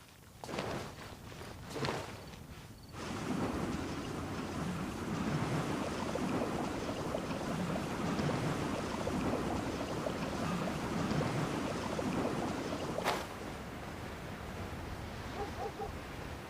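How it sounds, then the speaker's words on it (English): Waves wash steadily against a familiar port, a broad continuous rush of water with gusts of wind on the microphone, preceded by a few footsteps and knocks. "The sound of the waves in this familiar port."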